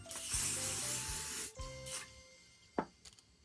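A handheld spray bottle mists a doll's Saran hair in a hissing burst up close, followed by a couple of short spritzes and handling rustles, with no speech.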